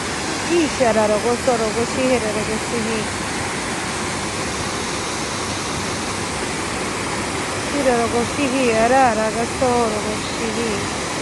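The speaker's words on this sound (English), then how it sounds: "Floodgates are open." Water rushes through open floodgates in a steady, loud roar that never lets up, with a voice briefly speaking over it in two places.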